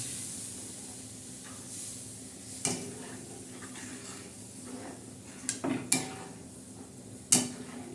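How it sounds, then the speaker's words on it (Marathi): Gram flour (besan) is stirred and roasted in a pan, giving a soft background sizzle broken by several sharp scraping knocks of the spoon against the pan, spaced irregularly. "असं हलवून घ्यायचं चव बाजूने"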